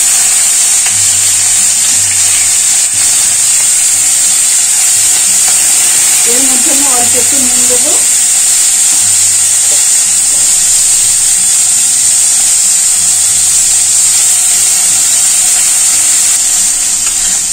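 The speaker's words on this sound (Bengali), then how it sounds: "পেঁয়াজটা আমি হালকা করে ভেজে নিলাম।" Grated onion frying in a pan with cumin and bay leaf gives a constant loud hiss of sizzling, while a voice speaks briefly partway through.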